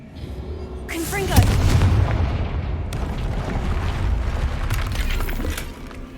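Confringo blasting spell cast in Hogwarts Legacy, a deep booming explosion with crackling debris that swells and rumbles on for several seconds, close and loud, with the spell called out by voice.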